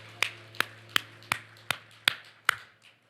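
A church congregation claps in unison during a praise service: seven sharp, evenly spaced claps in a steady beat, crisp and close, trailing off into quiet at the end.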